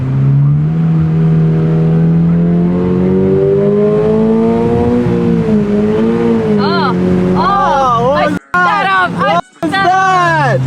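A 2022 Toyota GR86 fitted with a Greddy Evo GT catback exhaust, recorded from outside the car, idles loudly, then climbs through several sharp revs. Each rev rises and falls, with brief cut-offs between the later blips.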